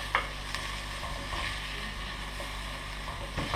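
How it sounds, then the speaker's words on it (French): Chopped onion and garlic sweating without browning in a saucepan, a soft steady sizzle with occasional stirring scrapes, close by and alone. "Juste les faire suer dans notre casserole comme ça."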